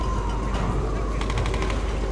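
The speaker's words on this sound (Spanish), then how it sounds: "estoy oyendo disparos y no me está disparando nadie" Rapid bursts of gunfire ring out in the action game Tomb Raider, a dense volley of repeated shots over a constant game soundscape, moderately loud, with no voice over them.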